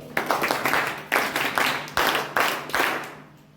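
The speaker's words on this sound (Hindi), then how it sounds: "सभी जोरदार तालियों के साथ उनका उत्साहवर्धन करें।" A seminar audience claps together at a weekly discussion gathering, producing loud, broad bursts of clapping in a pulsing rhythm of roughly two to three surges per second, then tapering off after about three seconds.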